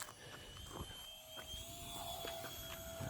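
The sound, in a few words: J35 EDF model jet aircraft flying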